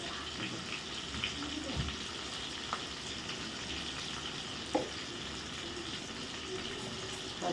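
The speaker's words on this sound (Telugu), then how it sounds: "పచ్చిమిరపకాయలు వేసి మనము ఉల్లిపాయలు వేగుతూ ఉంటాయి." Onions and green chillies fry in oil for an Andhra-style homemade fish curry, giving a steady, soft sizzle with a few faint clicks from the pan.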